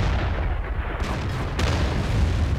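A French artillery shell lands in a tank battle game: a heavy, dense boom with crackling debris swells through a constant low rumble. No voices are heard.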